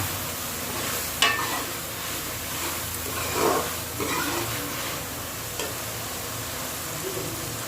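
Onion and capsicum stirred in a pan with a little water over heat, giving a continuous hissing sizzle with intermittent spatula scrapes and knocks, close and steady, no voices.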